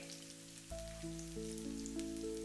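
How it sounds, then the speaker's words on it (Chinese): Cut taro pieces laid flat to fry in a pan give off a faint, soft sizzle with light popping. A quiet tonal hum shifts in the background, and there is no talking. "把切好的香芋平鋪在鍋中，使每一塊香芋都受熱均勻。"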